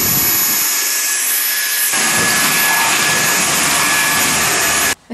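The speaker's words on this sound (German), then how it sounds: "Bevor ich in der Küche weitermache, staubsauge ich noch die ganzen Brotkrümel weg." A household vacuum cleaner sucking up bread crumbs on a kitchen floor, a loud, steady whine with a pitch shift partway through before it cuts off sharply near the end.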